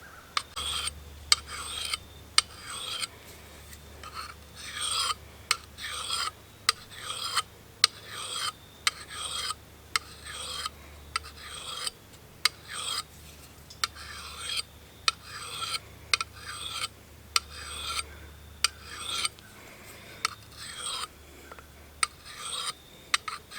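A Fjallraven DC4 sharpener rasps along a hatchet blade in a long series of quick, regular strokes, each a crisp scraping swipe, close and clear with short pauses between passes.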